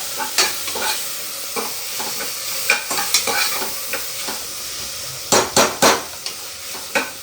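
Sambar ingredients frying in a pan, stirred with loud, repeated spoon scrapes over a constant sizzle, the strokes clustered in quick bursts toward the end.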